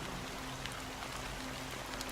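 Steady rain pours down in an even, close hiss throughout, with a faint low hum underneath and no voices.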